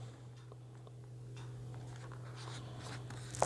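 Marker or chalk scratching and tapping on a board during a maths lesson, a quiet run of short strokes over a steady low electrical hum, close and faint, with no talking.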